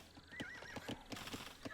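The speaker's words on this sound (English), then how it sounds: "He's getting the horse." A horse neighs and whinnies while hooves clip-clop in a steady rhythm, from a strategy video game, the sound effects fairly quiet and close.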